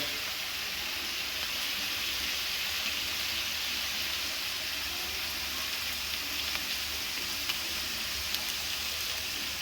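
Onions sizzle in a hot pan alongside red chilies and green beans while cooking a Thai dish, a steady, loud crackling hiss with no talk.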